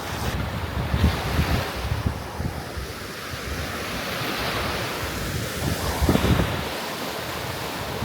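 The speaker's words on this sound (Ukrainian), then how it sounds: "Хвиля огромна." Huge storm waves and strong wind on a reservoir at night, a continuous loud roar of surf with heavy wind buffeting the microphone, swelling in gusts throughout with no voices.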